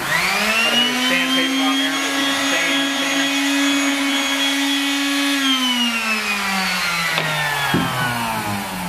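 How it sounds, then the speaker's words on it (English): An electric jitterbug finish sander whines steadily at a high, buzzy pitch, close and loud, then winds down gradually toward the end. "This is a jitterbug sander for doing fine finish sanding."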